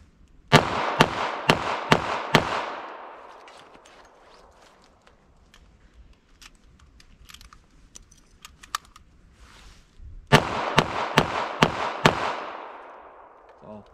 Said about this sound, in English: But I'll see how quick I can reload with this revolver.